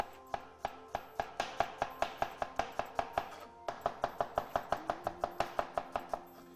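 An onion being finely sliced with a knife on a chopping board, rapid regular chops in two even runs with a short pause between, close and crisp, with no talking.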